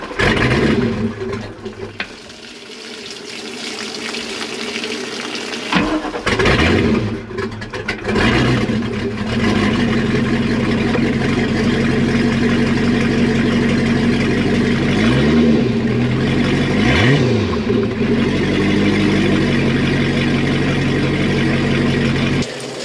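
A 1992 Sea Ray 380 Sun Sport boat engine starts and runs with a steady loud rumble, rising in a few revs partway through, with no talking over it.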